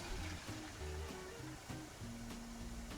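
Water from a hose runs steadily into the condenser of a still set up for distilling bourbon mash, a continuous close gurgling wash over low bubbling tones, with no talk.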